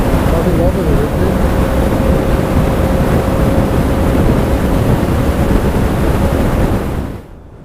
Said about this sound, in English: We're in the middle of some big flat featureless plain and the wind's just howling.